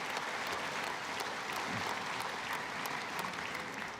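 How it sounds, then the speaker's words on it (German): Steady audience applause fills an annual general meeting of FC Bayern Munich, a dense, even wash of many hands clapping at moderate distance for the full stretch, with no voices above it. "Da gibt es auch mal Applaus, oder?"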